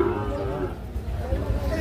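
A Sahiwal bull calf at a cattle sale gives a low, drawn-out moo close by, with people talking over it.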